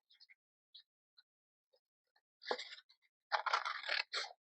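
Paper being cut at an angle with scissors for a homemade envelope: faint, sparse snips and crisp crunchy cuts, building to a couple of louder close bursts near the end, in a quiet room.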